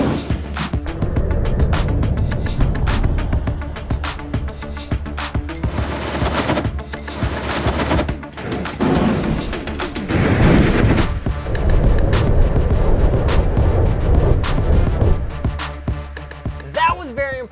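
Colored fire flamethrower blasting flames outdoors, loud roaring bursts and crackling whooshes repeating in quick succession, with people talking and reacting around them.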